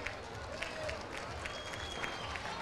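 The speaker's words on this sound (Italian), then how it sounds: "facciamo un applauso anche per Ezio Virgili" Faint applause from an outdoor crowd at a live foghera festival broadcast, a steady wash of scattered clapping with background murmur.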